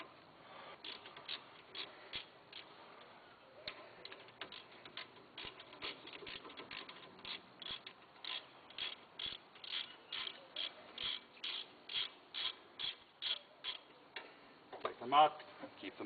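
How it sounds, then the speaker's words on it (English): A ratchet undoes brake bolts on a Nissan Livina X-Gear, its rapid metallic clicking coming in quick repeated bursts that grow steadier and more regular toward the end, fairly close and moderately loud. "move over to your ratchet. Makes it easier to undo the nuts,"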